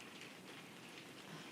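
Steady rain falls outside at night, a continuous soft hiss of drops on surfaces, faint and even with no voices over it.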